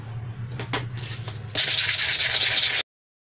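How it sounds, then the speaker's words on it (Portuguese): Hand sanding of an MDF board being prepared as a base for PVA paint: a few short scrapes and strokes, then a louder, steady run of rapid back-and-forth rasping for over a second before it stops. "Eu lixo dos dois lados"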